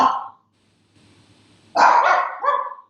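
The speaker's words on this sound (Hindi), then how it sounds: "तो मेरा कुत्ता भी बोल पड़ा।" A dog barks in the background of an art discussion, a short bark at the start and then a louder run of barks after a quiet pause.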